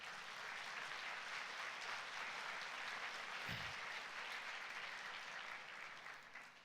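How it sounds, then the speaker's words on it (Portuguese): Steady applause from a church congregation during a Sunday service, a soft continuous wash of many hands clapping that holds even throughout, with a brief low thump partway through. "Dá um aplauso aí."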